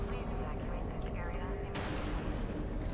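Gunfire in the sci-fi shooter Alien Breed: Impact, a dense continuous burst of loud shots with a sharp jump in intensity partway through, set against a steady game soundscape.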